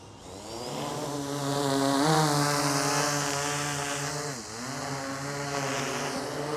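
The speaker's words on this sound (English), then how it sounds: "So same kind of thing, start the drone." An Autel Evo II Enterprise drone spins up its propellers close by, a steady buzzing whine with strong harmonics that rises in pitch, dips briefly and settles back, sustained alone without talk.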